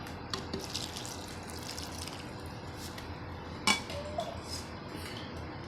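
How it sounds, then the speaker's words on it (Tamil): Water runs and splashes steadily into a bowl of wheat and ragi flour, with a few soft clinks of a utensil or dish partway through; no one speaks. "இதுக்கப்புறம் தண்ணி ஊற்றணும்"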